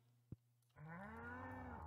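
A cow in the Stardew Valley farming game gives a single sustained, tonal moo about a second long, clear and alone after a brief click.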